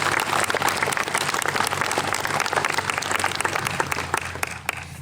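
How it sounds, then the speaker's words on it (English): An audience at a keynote speaker event applauds in a dense, steady round of clapping that holds at an even level throughout. "if we can give them a round of applause for helping me bring this here today"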